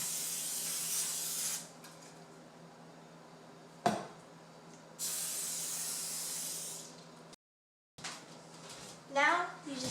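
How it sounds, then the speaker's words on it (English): Cooking spray hisses onto baking pans in a home kitchen in several short bursts, broken by small clicks and a brief quiet gap, with faint background sounds near the end. "you're going to either spray the pans with cooking spray"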